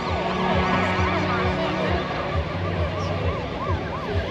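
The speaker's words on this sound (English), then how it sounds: "Got a fire engine doing some demos by the looks of it." A wailing fire engine siren sweeps up and down continuously during demos at a Nottingham car show, loud and nearby, over street noise and faint crowd chatter.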